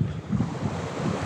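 Sea waves wash steadily onto the beach at Akliman, a continuous low rushing surge close by, mixed with wind buffeting the microphone, and no voices.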